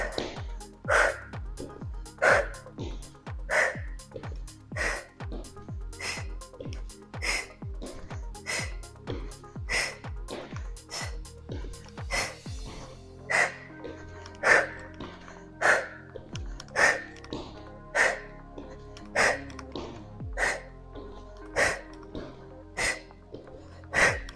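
Rhythmic sharp exhales repeat steadily through a no-equipment fat-burning bodyweight workout, each breath a short forceful puff over a faint backing beat, close and moderately loud.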